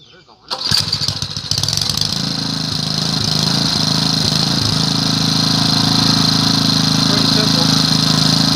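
A garden tiller's small engine catches about half a second in, then runs loud and steady at a close, even roar while working soil in a raised garden bed.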